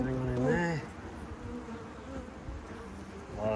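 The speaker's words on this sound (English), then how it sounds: "Lots of bees." Bees buzzing in an opened hive, a dense insect drone that swells loud at the start and near the end, with a faint voice briefly audible underneath.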